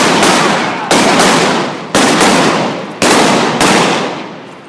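Four loud, sharp gunshots in a staged street gunfight in Deadwood, each blast cracking out close and then ringing away over about a second, with no talking in between.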